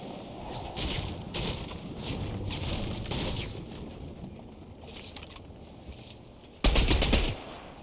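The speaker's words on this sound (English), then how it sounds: "Who's shooting?" Rapid bursts of automatic gunfire in the Fortnite video game crackle steadily for several seconds, easing off before one sharp, loud final volley near the end.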